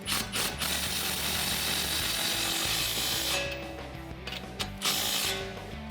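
A wrench turns and tightens a 17mm nut on the sway bar of a 2005-2014 Mustang. Steady metallic ratcheting and clicking runs up close and loud throughout, with a few sharper clanks near the end.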